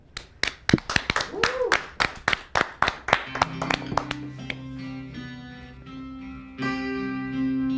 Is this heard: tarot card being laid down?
no